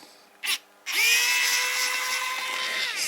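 A Xiaomi Wowstick 1F+ precision electric screwdriver, working on screws in an old Polaroid tablet, gives a short whirring burst, then a pause, then spins up to a steady high-pitched motor whine that runs close and loud, no talking.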